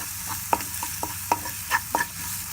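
Mutton brain fries in a pan while being stirred, a soft background sizzle broken by several sharp scraping and clacking strokes of a spatula against the pan, close and fairly loud, with no talk.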